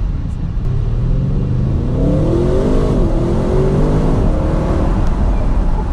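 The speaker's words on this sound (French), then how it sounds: "on entend un petit peu les turbos siffler" An Audi RS6 revs up hard under steady load, rising in pitch through the gears, with a faint high whistle of turbos riding above the roar.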